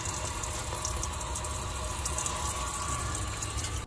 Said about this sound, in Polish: Odkręcę wodę, włączę pompkę. Woda się leje tak, a z tyłu woda się leje tak.